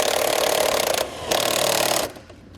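A 12mm socket tightening a nut on a towed-vehicle brake-light relay kit: a continuous, close ratcheting buzz with one short pause, then a quieter trailing rattle as it stops.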